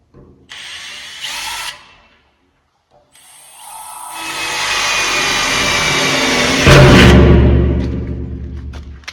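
A power drill whirs in short bursts, then runs continuously for several seconds, its pitch rising and straining as it bites into wood while building a wood stove; loud and close.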